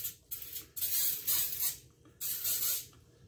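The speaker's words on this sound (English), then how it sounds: "So we're gonna spray it with a little bit of coconut spray." Coconut oil cooking spray misted onto a silicone soap mold, heard as three short, close hissing bursts separated by brief pauses.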